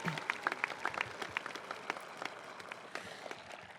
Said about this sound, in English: Please give a round of applause for the parents, grandparents, guardians, and significant adults of these 12th grade students